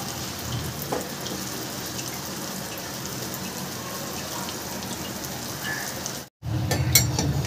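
Crispy potato balls deep frying in hot oil give off a dense, steady rain-like crackle. It cuts out briefly near the end, then returns fuller and louder.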